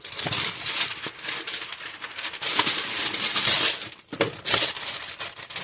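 Parchment paper handled during flatbread (goukui) prep, a close, continuous crinkly rustle that runs the whole time, with a brief pause near the end before the crackling resumes.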